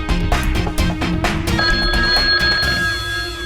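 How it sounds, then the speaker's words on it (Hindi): A telephone bell rings in repeated rapid trills, loud and close, continuing steadily for several seconds with no speech over it. "अब तक रिंग जा रहा है।"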